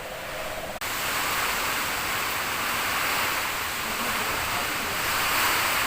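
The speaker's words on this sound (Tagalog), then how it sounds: "kalakas ng hangin kasi bagyo na po" Strong typhoon wind roars continuously as a loud, broadband rushing noise, steady and close, with a brief dropout near the start.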